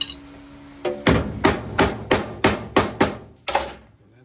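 Eight sharp hammer blows strike metal while riveting a ladder bar, falling in a steady rhythm with ringing decay between hits, loud and close.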